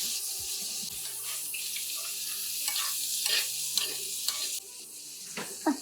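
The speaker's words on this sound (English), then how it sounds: "The butter will brown, add a nice flavor to it. Get the garlic in there." Garlic sizzles in browning butter in a pan while steak is cooked, a close steady fizzing hiss with scraping stir strokes and a few clinks, no talking.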